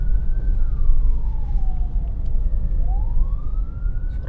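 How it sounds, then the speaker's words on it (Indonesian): An ambulance siren wails in a slow rising and falling sweep as it passes, loud over a heavy low rumble of road traffic. "ambulan."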